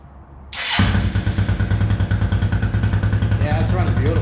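A 2004 Suzuki LTZ250 ATV engine catches after a quiet moment and settles into a loud, steady, close idle with a throbbing low pulse and a slight rev toward the end.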